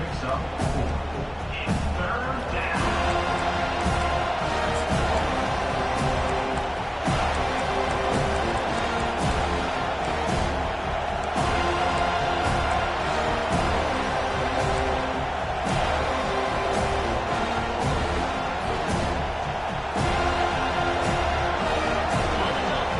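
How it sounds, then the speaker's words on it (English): A stadium crowd at an American football game keeps up a steady, distant roar that swells slightly on third down, under continuous play-by-play commentary. "Decibels rising as the crowd gets behind this defense on 3rd down."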